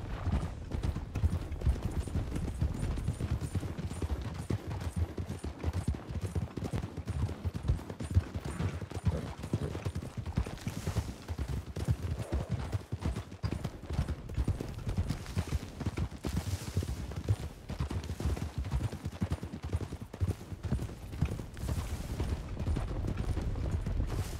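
Horse hooves in RedM, a continuous rapid clip-clop of galloping on ground, close and steady for the whole stretch with faint creaks of tack.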